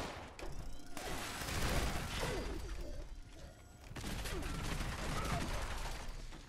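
Gauss minigun in Fallout 76 firing in sustained bursts, a dense, roaring stream of rapid electric shots with a short break midway, loud and continuous.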